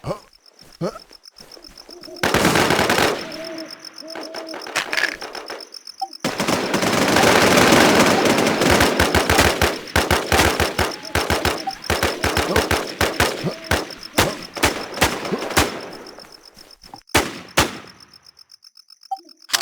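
Gunfire in the Infestation survival shooter game: bursts of rapid automatic fire and sharp single shots, loud and close, with a long sustained burst in the middle and scattered shots toward the end.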